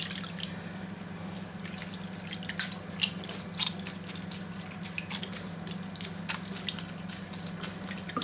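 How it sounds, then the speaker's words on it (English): Hand-dyed yarn being squeezed, releasing a steady trickle and drips of water into a sink, with a constant low hum underneath throughout. "I'm just squeezing the water out here right now."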